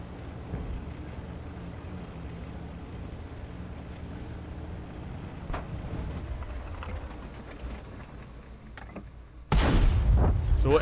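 Tank cannon shots ring out in World of Tanks, a low rumbling battle backdrop broken by a distant boom around the middle and a loud, close blast near the end.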